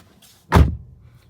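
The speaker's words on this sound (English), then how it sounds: "So let's go ahead and get inside here. Closing the door. Let's see. Door sound." The door of a 2024 Alfa Romeo Giulia Sprint RWD closing from the inside, a single solid, low thunk with no talking.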